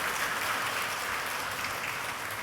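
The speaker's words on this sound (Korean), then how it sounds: "우리 옆에 분에게 성공의 박수 한번 주세요." Congregation at a church service claps for one another, a dense, even wash of applause throughout the short stretch.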